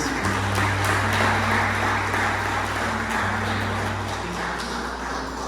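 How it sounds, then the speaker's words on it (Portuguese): A church congregation applauds continuously and fairly loudly, a thick wash of clapping that lasts throughout, layered over sustained low instrumental tones humming beneath it. "Você pode aplaudir ao Senhor mais uma vez?"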